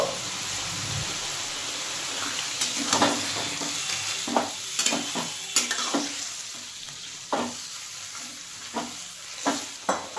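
A pan of bottle-gourd stems cooking with fried fish head, sesame and mustard, stirred after water is poured in: a steady wet sizzle and hiss with about a dozen sharp spoon scrapes and knocks, close up.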